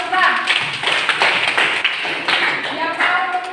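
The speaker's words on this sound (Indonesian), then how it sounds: "beri tepuk tangan untuk Aura" A school class clapping for a student after her answer, a dense, steady patter of many hands in a classroom, close and moderately loud, with voices mixed in.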